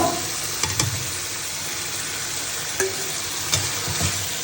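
Cauliflower tumbles into a sizzling spice paste for a cauliflower and katla fish curry, the hiss steady with a few clattering stirs and scrapes of the spoon against the pan.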